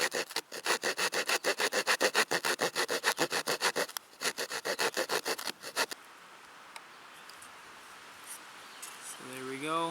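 A hand saw rasps through wood in quick rhythmic back-and-forth strokes for around six seconds, making two parallel cuts outdoors in the wilderness, close and fairly soft, then quieter rustling follows and a voice begins at the end.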